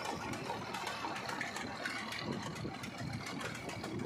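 A Mahindra Arjun 605 4x4 55 HP tractor engine runs steadily at a low, even rumble, heard alone and not very loud.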